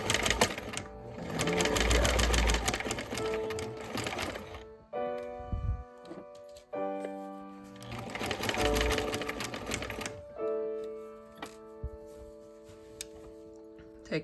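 Sewing machine straight stitching a bias facing onto a garment neckline, two runs of steady rapid mechanical chatter separated by pauses with soft handling sounds, fairly quiet and close.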